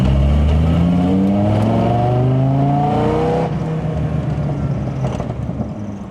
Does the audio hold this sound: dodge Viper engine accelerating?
yes